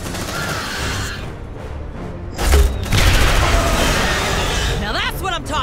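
A grenade goes off in Aliens: Dark Descent, a heavy close boom at about two and a half seconds followed by crackling gunfire and mechanical clatter, with squad voices shouting around it.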